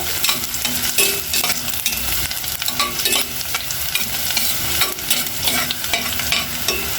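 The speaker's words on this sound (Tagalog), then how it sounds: "Ilagay na po natin yung ating bawang. Isabay na rin natin ang ating luya." Garlic and ginger sautéing in a hot pan for a mussel dish, a loud, steady sizzle with scraping stirs of a spatula throughout and no talking.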